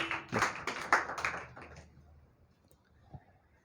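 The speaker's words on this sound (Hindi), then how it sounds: "ताली बजा दो मोनू के लिए यार" A small group claps for a student in an institute classroom, a quick burst of close, crisp claps that thins out and stops after about two seconds, leaving near silence with one late tap.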